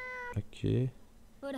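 A black cat in the video game Nights of Azure gives a short, close meow between brief bits of a man's speech.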